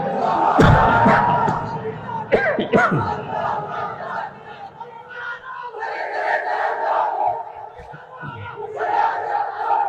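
Crowd at an Islamic religious gathering shouting the takbir response to a speaker's call: loud, massed chanting voices that rise in repeated waves, near and powerful.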